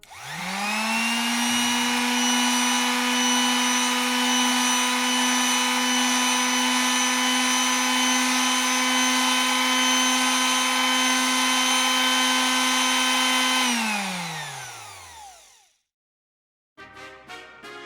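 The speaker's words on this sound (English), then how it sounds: "I then sand the 4 pieces to smoothen the edges and give it that soft touch" A power sander runs on wooden clamp pieces, spinning up to a loud, steady whine held for about twelve seconds before winding down, followed by silence and a short burst of sound.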